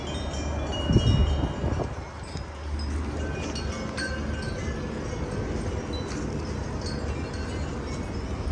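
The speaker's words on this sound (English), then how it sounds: "if you're in a spot where it's really windy and you're trying to get the sound of wind whistling through the trees" Strong gusts of wind blow through trees on an extremely windy day, a loud continuous roar with microphone buffeting and rustling, swelling early and then holding steady.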